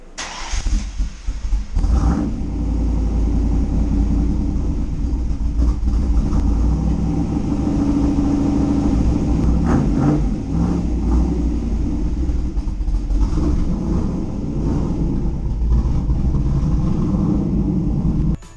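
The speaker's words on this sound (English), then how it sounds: "We hadn't had a cold start on the channel in a while, so let's get a cold start." An SN95 Ford Mustang engine cranks and catches on a cold start, then settles into a loud, steady, deep rumbling idle that holds close and strong for nearly twenty seconds.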